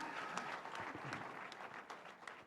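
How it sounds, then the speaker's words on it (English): An audience at an African motivational live event applauds, a faint, diffuse patter of many hands clapping at a distance, steady for a couple of seconds with no voices standing out. "Please, let's put our hands together for them."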